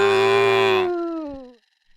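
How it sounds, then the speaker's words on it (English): A cow gives one long, loud moo that holds steady and then slides down in pitch as it fades away, with no voices around it. "This was making that moo sound."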